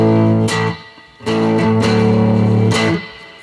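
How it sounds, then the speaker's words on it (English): A 1994 Fender Vibro King guitar amp pushed hard through a Fryette Power Station gives distorted chords, two sustained strums ringing out in turn with a short gap between them. "Now you can hear the distortion already."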